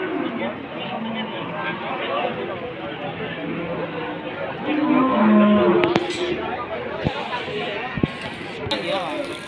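Large Pegon cattle at Pasar Wage livestock market in Pati, one lowing moo standing out amid crowd chatter and market bustle, with people talking nearby.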